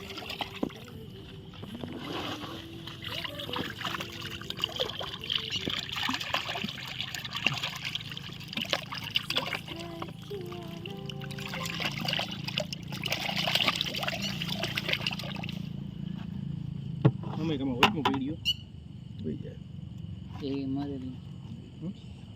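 Water trickles and splashes steadily as rescued fish are released into a river, with soft murmuring and movement near the bank and a brief cluster of sharper splashes toward the end.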